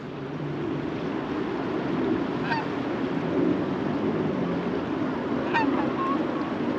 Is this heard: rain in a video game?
no